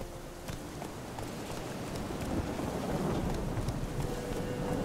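Roach, the horse in The Witcher 3, gallops with a steady drumming of hooves under a rushing wash of wind and rain, a continuous moderately loud rumble.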